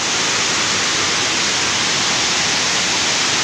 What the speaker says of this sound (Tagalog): Lakas na yung dagis-dagis ng tubig, oh.